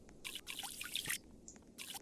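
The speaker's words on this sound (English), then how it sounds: "So I'll be drinking water and then refilling." Water being refilled in a Roblox Everest climbing game, a few short bright bursts of pouring, trickling sound in quick succession, faint and close with no voices.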